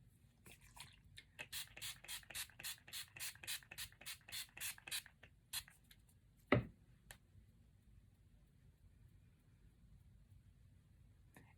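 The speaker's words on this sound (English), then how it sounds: "I'm going to spray my face again" Setting spray misted onto a face in a series of quick, evenly spaced hissing pumps up close, followed by a sharp knock and then quiet room tone.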